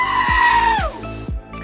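A goat bleats in a long, loud, wavering cry that falls away at the end, heard alone and close up.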